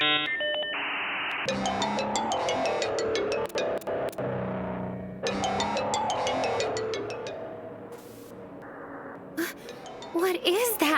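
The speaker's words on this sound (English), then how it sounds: "Even the ringtone is creeping me out." Creepy electronic phone ringtone in the horror video game Monark, a tinkling, distorted jingle of repeating tones that plays through the clip with short breaks, accompanied by game sound effects and a gasp.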